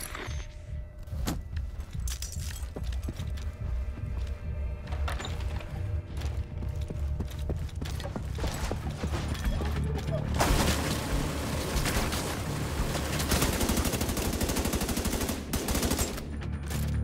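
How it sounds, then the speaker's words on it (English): An ammo stockpile detonated in the video game The Division 2, a burst of crackling chained pops and rattling gunfire-like blasts that thickens into a dense, sustained roar of explosions, close and loud. "I'm gonna detonate it."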